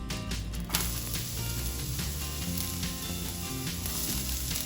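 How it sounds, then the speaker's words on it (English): Onion hits a hot pan still greasy from browned beef in a stir-fry of beef, sweet pepper and onion, a loud steady sizzle that holds for several seconds with a faint scrape of stirring. "Now we add the onion."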